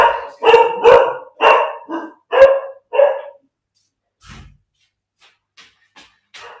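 A pet doodle dog barking at home, a burst of seven sharp, loud barks close by in quick succession, then a few fainter yips and scuffles trailing off.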